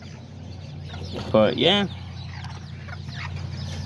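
Aztecas hens with baby chicks clucking nearby, one loud burst of clucks mid-clip over a low steady background hum, with a brief spoken phrase.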